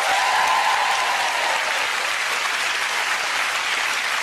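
Loud, sustained applause from a studio audience greeting a competing family on a British family game show, a thick, even roar of clapping from start to finish, with a host's voice faintly under it early on.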